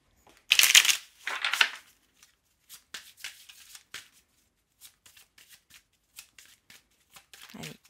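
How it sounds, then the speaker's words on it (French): Feeling cards are shuffled in two quick riffling bursts near the start, followed by soft scattered taps and slides as the cards are handled, then a brief voice at the end. "Allez, on va regarder avec les feeling cartes."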